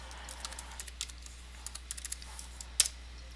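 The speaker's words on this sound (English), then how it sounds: "type in my password." Keys on a Dell Latitude E6530 laptop keyboard tapped at an uneven pace while entering a password, soft close clicks with one sharper tap near the end.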